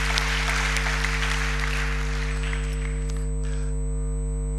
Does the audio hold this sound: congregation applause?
yes